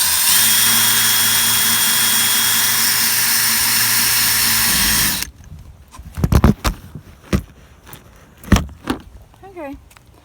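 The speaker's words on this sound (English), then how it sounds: "right now I'm just drilling some holes" Power drill with a 1/4 inch bit boring holes in a plastic compost bucket lid over an old phone book, a steady loud whine for about five seconds, then stops, followed by scattered knocks and handling clatter.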